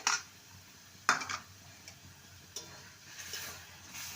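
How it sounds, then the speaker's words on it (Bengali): Soft sizzling and scraping of a ground mustard, poppy seed, coconut and green chili spice paste being stir-fried in a pan, with a few sharp spatula clinks against the metal over a low, steady frying hiss. "এই মশলাটাকে ভালো মতন কষিয়ে নিতে হবে"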